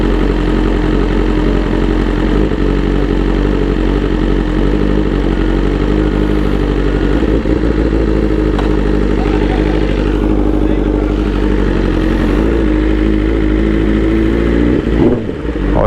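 A BMW S1000RR motorcycle with a freshly installed engine runs close by, a loud, steady low rumble with a faint clatter and a slight blip near the end, as someone speaks briefly over it.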